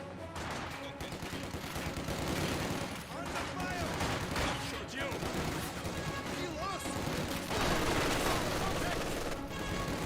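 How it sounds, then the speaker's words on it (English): An MG42 machine gun in Company of Heroes 2 fires sustained rattling bursts amid dense battle noise, with overlapping shots and explosions throughout. "MG42 firing away"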